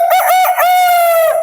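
A rooster crows once, loud and close: a single drawn-out, strongly pitched call that breaks into several rising syllables before holding a long final note.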